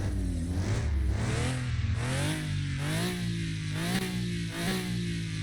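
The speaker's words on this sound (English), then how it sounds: "It feels like such a journey climbing through all those revs." In a video game, a BMW DLC car engine climbs through its rev range in a series of rising, buzzy sweeps with brief dips at each shift, loud, steady and close with no voices.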